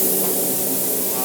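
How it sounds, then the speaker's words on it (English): A spray gun hisses steadily and loudly, applying yellow nitrocellulose lacquer shader for a sunburst finish on a Gibson USA Les Paul guitar body in a factory spray booth, one continuous close spray with no pauses. "He's going to spray that center yellow, right?"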